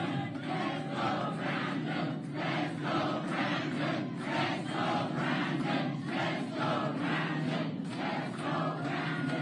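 A large crowd at a Ron DeSantis rally chants in steady rhythmic bursts, loud and continuous across the whole stretch, with many voices shouting together in a repeating cadence.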